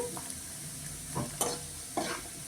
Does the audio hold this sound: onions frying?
yes